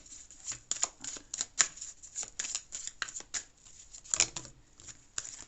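Tarot cards are shuffled by hand in quick crisp riffling bursts, close and fairly quiet, with no talking.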